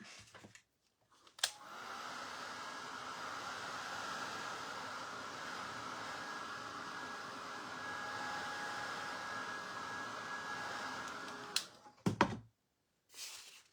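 A hair dryer is switched on with a click to dry paint on a painted hat, blows with a steady, even whir for about ten seconds, then clicks off.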